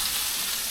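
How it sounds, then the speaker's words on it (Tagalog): Food frying in hot oil under a splatter screen, a loud, dense, steady sizzle and crackle that runs without pause, close up and with no voices. "Kung kayo nagpiprito na ito, gamit ko itong screen na ito para hindi tumalsik ang mantika."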